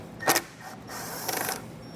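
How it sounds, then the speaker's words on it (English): Two short mechanical whirring bursts from a T15 Torx bit backing out screws during base plate installation work on a 2015 GMC Canyon, close and fairly quiet with a pause between them. "we can get this pulled out using a T15 Torx bit"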